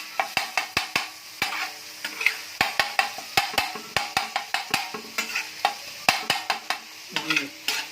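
Minced beef keema frying on a tawa, with a sharp, irregular run of spatula scrapes and clacks against the metal over a continuous hot sizzle, close and fairly loud.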